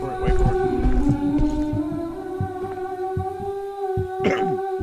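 Heartbeat thumps pulse through the horror video game The Mimic, a run of low, muffled beats in uneven clusters over a droning hum, with a few brief sharp sounds mixed in.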